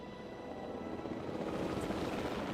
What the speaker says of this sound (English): helicopter standing by, and they'll attempt to tranquilize the animal from the air